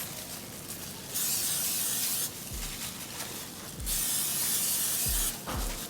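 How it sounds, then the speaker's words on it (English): Two long bursts of cooking oil aerosol spray hissing close by onto ribs, each lasting about a second, separated by quieter handling noise and a few soft thumps. "I'm just gonna go ahead and spray it."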